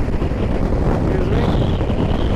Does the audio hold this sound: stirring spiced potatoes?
no